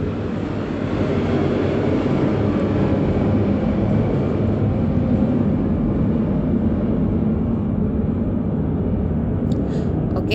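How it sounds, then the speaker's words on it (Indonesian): An airplane passing overhead, a loud, broad, steady roar that fills the whole stretch and fades slightly toward the end. "ada pesawat lewat ya"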